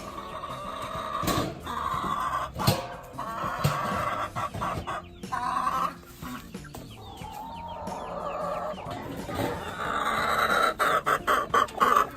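Homestead chickens cluck and chatter at close range in a busy morning chorus, with overlapping bursts of calls and brief squawks throughout.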